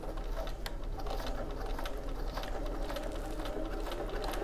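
Sewing machine running a fast, steady stitch through oilcloth with a Microtex needle, a continuous close mechanical whir with a fine rapid ticking, alone and without pause.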